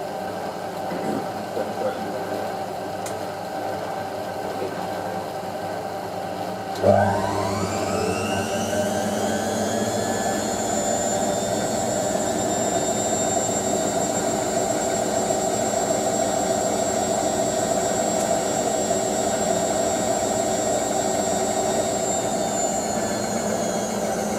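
A Hotpoint 9530 Electronic 1000 Plus washing machine spins toward 1000 rpm. After a low rumble, a sharp whine starts, climbs in pitch, and then holds as a loud, steady high drone for the rest of the clip.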